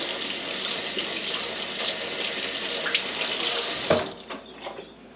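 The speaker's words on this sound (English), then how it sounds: "Wash it really good" Tap water gushes steadily into a sink as chicken thighs are rinsed under it, loud and close, until the flow cuts off near the end, leaving a few drips and soft handling sounds.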